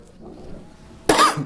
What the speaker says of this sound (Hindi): मैंने आपको बताया था खांसी आ रही है मुझे